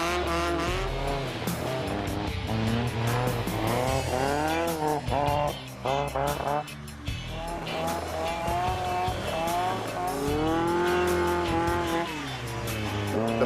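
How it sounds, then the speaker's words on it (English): A Lotus 7 kit car, a street-legal racing car, runs hard on a race track, its engine loud and continuous with rising and falling revs through gear changes and occasional tyre squeal. "It's basically a racing car that's street legal."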